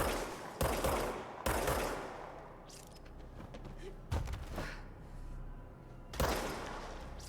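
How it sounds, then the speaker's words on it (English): Gunshots in the game Control, a handful of sharp, separate blasts spaced a second or two apart, each with a booming tail over a quieter rumbling background. "You shoot it with a gun."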